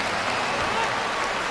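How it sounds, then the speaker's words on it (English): Fellow gymnasts applaud after a high bar routine at the 2023 University Games, a brief steady patter of clapping from a small group. "And the other gymnasts applaud."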